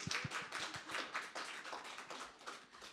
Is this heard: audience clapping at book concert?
yes